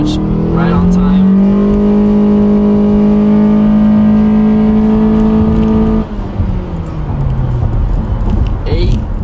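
A car fitted with a K&N air intake accelerates from a standing start: a loud, close engine whose rising, strongly harmonic drone climbs and then dips at a gear change, with speech heard over it.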